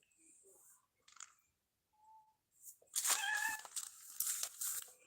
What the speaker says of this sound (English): Can you hear that meowing?